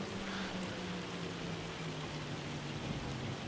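Steady rain with hail in Farming Simulator 25, a dense even hiss of falling drops, continuous and fairly close with no clear breaks.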